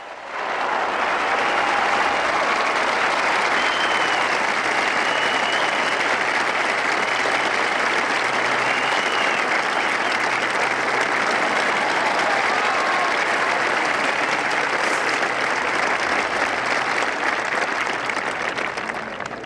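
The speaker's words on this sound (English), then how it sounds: "And with the applause, I know he knows that Trevino made par, and he knows what he has to do" A large gallery at the 1984 Players Championship golf tournament applauds Lee Trevino's par, with loud, dense, sustained clapping rolling on steadily for almost twenty seconds.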